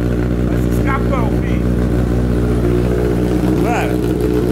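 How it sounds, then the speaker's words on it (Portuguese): Honda CB1000 motorcycle engine running loud and close with a steady, deep rumble that swells slightly as it revs, while voices talk briefly over it. "Mano, vou dar uma ligadinha aqui. Você ouviu o ronco, né?"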